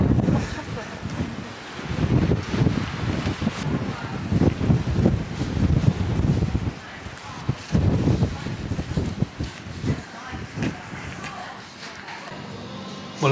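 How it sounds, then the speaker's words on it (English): Strong wind blows at the coast at Reculver Country Park, roaring and buffeting the microphone in loud gusts, with people talking nearby. "It's blowing a hooli here."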